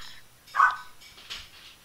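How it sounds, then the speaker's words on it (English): A pet dog barks indoors, two short barks about half a second apart, the first louder, heard fairly close with no talking over them. "my dog's barking"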